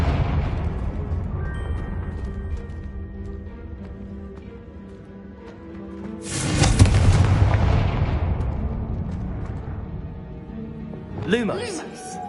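A Confringo blasting curse explodes in the Hogwarts video game with a loud, deep boom that swells and rumbles for a couple of seconds. It rises out of a steady ambient drone, and a brief shimmering magical flourish follows afterwards.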